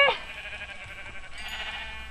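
A sheep bleats in the Minecraft video game: a single short, quivering bleat at the very start, followed by quiet, hissy background.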